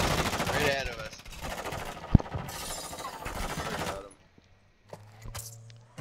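Gunfire in a Call of Duty Warzone DMZ match, a dense burst of shots under steady talk for about four seconds, then quieter game ambience with a few scattered distant reports.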